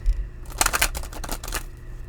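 A triple deck of playing cards is shuffled by hand: a brief, crisp burst of riffling flutters close by for about a second, with no talk.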